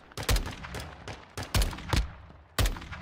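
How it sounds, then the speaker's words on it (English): Repeated sharp game gunfire from a sniper rifle in Call of Duty Warzone 2.0, with about five loud shots at uneven intervals over a steady background rumble and no talk. "I was looking with the sniper."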